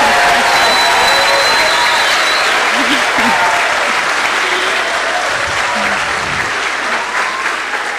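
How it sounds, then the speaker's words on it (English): A school heritage day audience gives a loud, sustained round of applause for student presenters, clapping dense and close throughout with faint voices underneath that trail off slightly near the end. "Please give them another round of applause."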